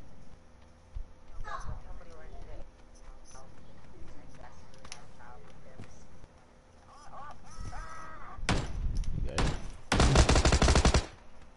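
Gunshots in PUBG, heard as a few scattered shots followed by a loud burst of rapid fire near the end, with people talking throughout.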